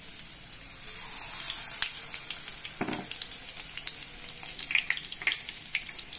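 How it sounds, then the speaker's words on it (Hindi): Pumpkin flower fritters frying in hot oil, a steady close hiss and crackle with scattered sharper pops and a brief bubbling swell midway. "जब तक रेड नहीं हो जाता इसको फ्राई करना है ना थोड़ा"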